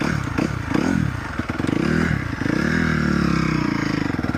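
A 2017 Honda CRF250R dirt bike, long left in storage, runs with a raspy, pulsing engine note that rises and falls as it shifts through the gears, loud and close with some clattering.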